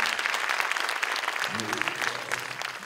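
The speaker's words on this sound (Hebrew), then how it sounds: "לטל מגיע מחיאות כפיים מיוחדות" An audience at the 2015 Vegan Congress applauds steadily and loudly throughout, a dense wash of clapping from a large crowd with a voice briefly audible beneath it partway through.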